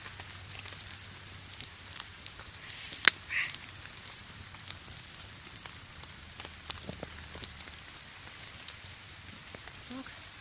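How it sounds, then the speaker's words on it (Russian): Campfire of damp wood crackling outdoors, with scattered sharp pops and snaps over a constant hissing background, one louder burst of crackles standing out, fairly quiet and without talking. "Сырые, поэтому и трещит."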